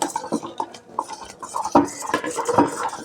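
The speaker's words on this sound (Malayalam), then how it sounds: "നല്ല വൃത്തിയായിട്ട് നമ്മൾ ഇളക്കി കൊടുക്കണം" Halva being stirred in a pan: irregular close scrapes, clinks and taps of a utensil against the pan, with faint background voices at moments.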